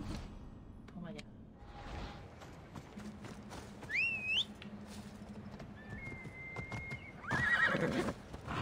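A black horse in the Assassin's Creed Odyssey video game gives a loud, close whinny, with hoof clip-clops, whistle-like game tones and someone talking in Spanish around it.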